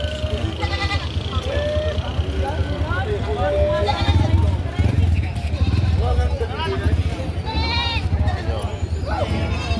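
Goats bleat repeatedly amid a busy crowd, with people chattering and talking throughout in a noisy outdoor livestock auction market.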